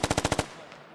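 DShK heavy machine gun in the game Squad fires a rapid burst of six heavy, booming shots in even rhythm, close and loud, then a short fading echo.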